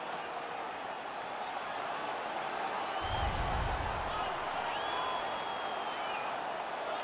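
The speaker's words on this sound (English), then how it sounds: "The crowd is ecstatic." Hockey arena crowd in NHL 17, a Detroit vs Washington playoff game, roaring in a broad, steady wash of cheering that swells briefly midway, with faint whistles on top.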